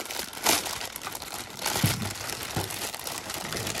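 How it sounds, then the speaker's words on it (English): A plastic bag crinkles up close around a boxed action figure during an unboxing, a continuous rustle with a few sharper crunching handling bursts, no voices. "Here's Vegito stuck in a plastic bag."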